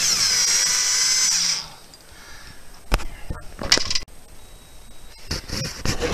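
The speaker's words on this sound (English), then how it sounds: "And you use just a cordless drill and a Phillips tip," Cordless drill with a Phillips tip removing burner screws from a cooling unit: a steady high motor whine runs for about a second and a half, then stops, followed by scattered clicks and clunks from the screw and metal parts.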